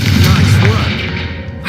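A Confringo fire spell blast in the video game Hogwarts Legacy hits candelabras: a loud, booming burst at the start that fades out, with voices talking over it.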